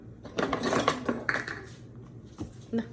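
Pizza dough ingredients mixed in a bowl: a spoon scrapes and clinks against the bowl in quick, irregular strokes, close up and fairly quiet, with no talk.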